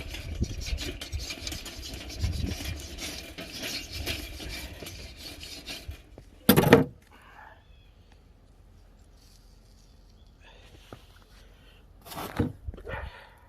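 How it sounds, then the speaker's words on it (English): Grill grate being scraped clean while cooking ribeye, with scratchy rasping strokes in the first six seconds, then a sharp clatter, quiet gaps and another brief burst of scraping near the end. "I've got to clean the grill grate and give it a nice new clean spot."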